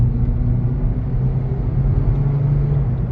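An 8th gen Honda Civic with high miles accelerating at full throttle from about 30 mph, heard from inside as a steady, loud engine drone and rumble with road noise, no talking.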